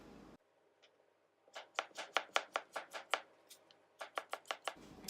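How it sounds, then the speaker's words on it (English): A knife slices a cucumber on a cutting board into thin pieces about an eighth of an inch thick. Quick crisp chops come close and clear in a rapid run of about a dozen even strokes, with a brief pause before the last few. "Slice depending on your cucumber, and if you can get a whole nother slice, about 1/8 of an inch thick"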